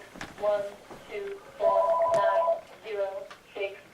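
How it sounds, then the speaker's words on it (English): A telephone rings in a steady electronic burst, heard between stretches of someone talking nearby, the ring standing out clearly in the middle as the voice pauses. "And here goes the phone."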